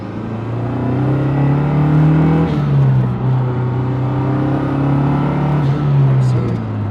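A MazdaSpeed 3 engine pulls hard at wide open throttle, a loud steady drone holding close and continuous with small pitch dips as it climbs.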